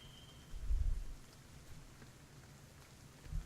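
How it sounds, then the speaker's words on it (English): Rain falling in the survival game The Stomping Land, a soft steady patter with a low rumble of thunder near the start and again at the end, no talking over it. "And it's raining."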